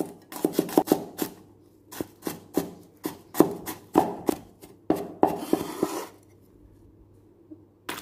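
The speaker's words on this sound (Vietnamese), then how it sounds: "sắc cho thành từng khúc như vậy luôn" A knife chops lemongrass sharply and repeatedly on a board, irregular bursts of quick strokes, close and crisp, then stops.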